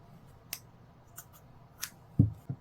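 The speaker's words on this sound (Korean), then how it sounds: "이제 실을 잘라줄 건데 실 정리를 할 거 생각해서 약간 길게 잘라주세요." Scissors snipping through knitting yarn, several soft, sharp clicks spaced about a second apart, ending in a louder pair of close cuts.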